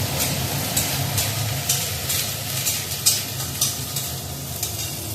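Cumin paste and tomato paste frying in a pan, a steady close sizzle with soft scraping stirs recurring every second or so, no voices.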